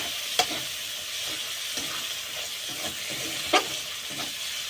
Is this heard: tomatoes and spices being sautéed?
yes